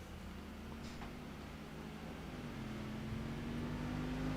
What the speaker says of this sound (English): They definitely changed the sound of this car for the mod.